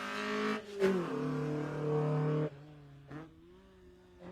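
A Ford Fiesta rally car engine, running poorly, revs unevenly in bursts, rising and dropping with a rough, sputtering tone, fairly close, at a spring rally.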